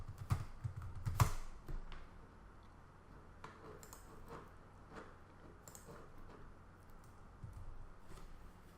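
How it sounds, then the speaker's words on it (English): Password being typed on a computer keyboard while logging into a new virtual machine: a few sharp keystrokes near the start, then faint scattered taps over a quiet room hum. "I'll type the same password."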